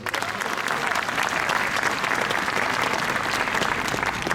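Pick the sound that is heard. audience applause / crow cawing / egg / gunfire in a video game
audience applause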